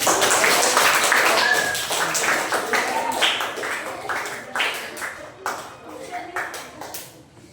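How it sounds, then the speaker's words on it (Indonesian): Classroom audience of children clapping hands, a dense burst of claps at first that thins into scattered, uneven individual claps trailing off over several seconds. "Ya, tepuk tangan."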